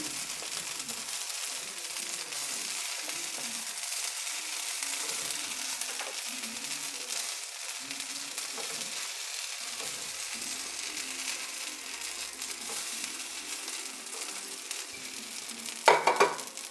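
Potato balls dipped in dosa batter fry one by one in a hot pan, a steady close sizzle and crackle running throughout with a brief clatter near the end.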